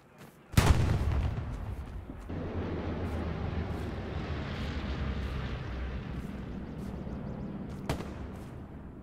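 A Puma armored car fires its cannon in the World War II game Hell Let Loose, one heavy close blast followed by a long rumbling echo, then a second sharper report later, over a low battlefield drone.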